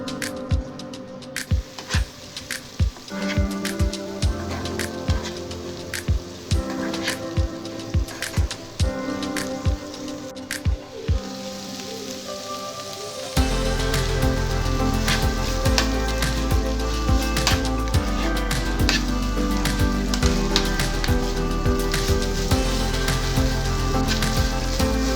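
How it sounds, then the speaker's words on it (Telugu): Ivy gourd pieces bubble as they simmer in water in a pan, a dense, close patter of popping bursts that grows louder and steadier about halfway through. "దొండకాయ ముక్కలు ఈ వాటర్లో బాగా మెత్తగా ఉడికించుకోవాలి."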